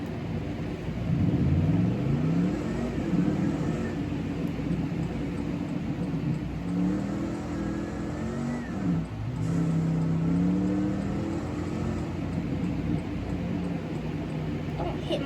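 A Dodge Durango engine revs in bursts over a steady rumble, loud and close, with a person talking over it throughout.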